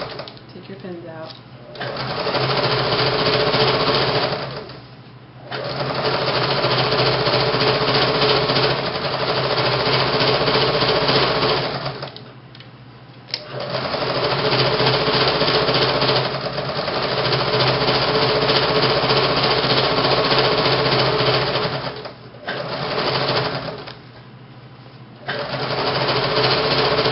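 Sewing machine running a ruffler stitch through fabric, loud steady mechanical chattering in long bursts separated by brief pauses, with a voice talking over parts of it.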